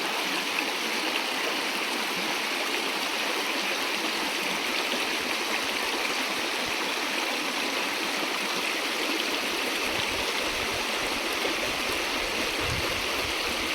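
A mountain stream flows through a forest hillside, a steady close rush of water with a bright, even hiss and no break, heard alone without voices.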